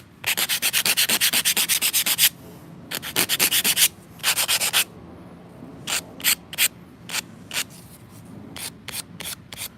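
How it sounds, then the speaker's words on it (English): Repeated rapid strokes of sandpaper scratching on a miniature wooden chair, in bursts: long runs of quick rubbing, then shorter separate swipes, close up with no talking. "everything I'm sanding, I'm just going into little corners and stuff"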